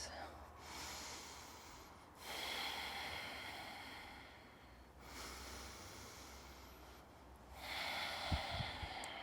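Slow breaths held during a yoga pose: three long, soft inhale-exhale cycles spaced a few seconds apart, close and quiet, with a faint low hum underneath.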